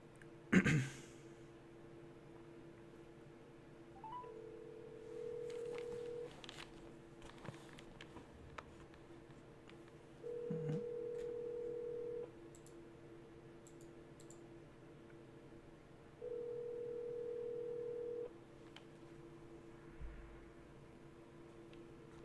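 A telephone call rings and waits unanswered, with three steady tonal ring bursts spaced several seconds apart under quiet room noise, plus scattered faint clicks.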